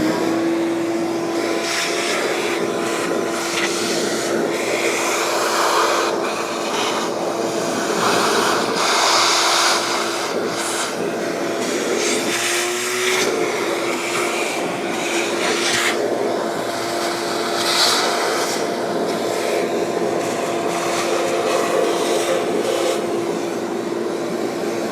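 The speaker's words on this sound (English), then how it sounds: "And vacuum up the chips." A vacuum cleaner runs close and loud in a machine shop, sucking up metal machining chips from finishing a cam for a five-cylinder radial engine, a steady droning whine with rattling, scraping bursts as chips are drawn in.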